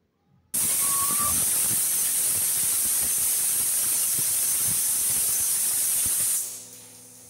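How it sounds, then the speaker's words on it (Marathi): Steady, loud hiss of steam jetting from a pressure cooker cooking chicken, starting abruptly and holding for about six seconds before tapering off, with a brief tonal whistle near the start. "आता कुकरचं झाकण लावून 2 शिट्ट्या काढून घेणार आहे मी"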